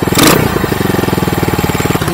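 An RPS Condor 150cc motorcycle engine fitted with a Nibbi 26mm carb idles close by with a fast, even putter. A brief burst of louder noise comes at the start.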